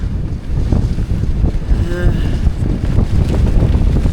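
Sea waves and gusting wind heard from aboard a ferry during a stormy Visayas-to-Luzon crossing, a loud, steady rush with wind buffeting the microphone.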